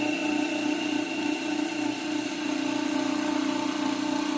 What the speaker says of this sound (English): this is running on 60 Hertz AC, this motor